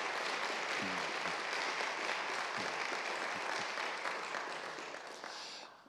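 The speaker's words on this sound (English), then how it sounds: "I think we should thank the Humboldt Foundation with an applause for that." An audience at an academic award forum claps together in thanks, a dense steady round of applause that fades gradually toward the end.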